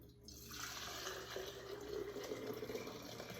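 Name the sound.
liquid being poured into a canning jar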